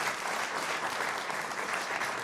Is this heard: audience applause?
yes